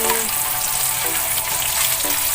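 Onions frying in a pan sizzle loudly and steadily, with faint stirring clinks breaking through the hiss.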